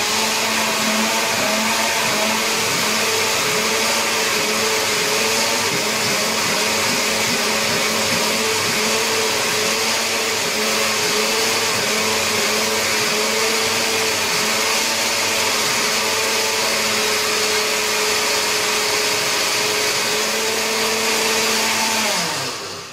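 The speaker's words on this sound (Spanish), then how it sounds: "una licuadora para licuarlo, para luego tener nuestro champú preparado de hoja de menta y aceite de coco" A blender whirs steadily at full power, blending mint leaves and coconut oil into a homemade shampoo. The loud, continuous drone holds for the whole stretch and winds down at the very end.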